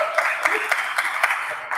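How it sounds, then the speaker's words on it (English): Audience at a community talk on claiming ancestry claps after enjoying a chicken meal, a steady wash of close applause with sharp individual claps over about two seconds. "just clap if you enjoy it"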